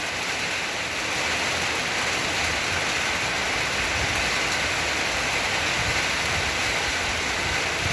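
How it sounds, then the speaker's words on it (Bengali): Steady rain falls with a cold wind outside a house, making a constant, even wash of broadband hiss that never lets up. "খুব ঠান্ডা বাতাস, ঝিরিঝিরি ঠান্ডা বাতাস, তার সঙ্গে বৃষ্টি হচ্ছে।"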